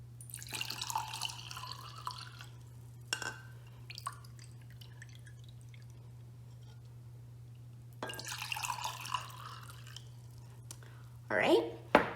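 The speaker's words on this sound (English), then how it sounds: "I'm going to pour 1 cup into this scoop and then pour it into one of the cups." Room temperature tap water poured from a measuring scoop into a cup, two separate bursts of splashing and trickling pours with quiet drips between, over a steady low hum and faint clatter.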